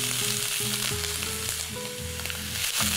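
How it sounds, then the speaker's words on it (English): Chopped onion sautéing in a hot pan, a loud continuous sizzle over a steady hum, with no voices. "So we've got one onion chopped. We're going to saute that off."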